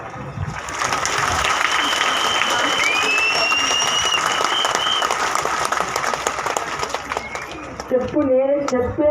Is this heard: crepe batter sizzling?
no